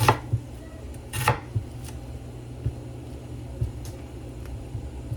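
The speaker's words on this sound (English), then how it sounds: "we'll just turn it and chop it this way" A knife chops through potato on a cutting board for potato salad, a handful of sharp, close board taps at an irregular pace with a low hum in the background and no talking.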